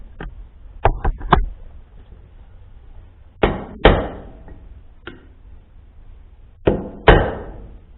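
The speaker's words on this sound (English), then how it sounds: "I'm going to whack it with a hammer till it's just about flush" Sharp hammer strikes driving a seal into a trailer axle hub: a few quick taps, then pairs of heavier blows, ringing close and alone.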